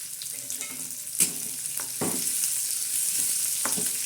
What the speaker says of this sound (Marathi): हा कांदा बी कसा तर तर तर तर होतोय